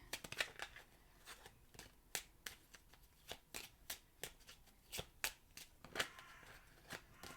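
Playing cards are riffled and shuffled in quick, crisp bursts, repeated many times at an uneven rhythm, fairly quiet and close with no talking.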